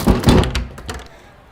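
A punch sound effect from a radio play lands as a heavy, close thump followed by a second thud and a brief rumbling decay, loud and dull with no voices.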